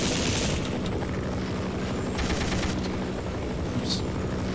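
Dense, continuous gunfire from the They Hunger game fills the whole stretch at steady loudness, a packed rattle of shots with a booming low end and no pauses.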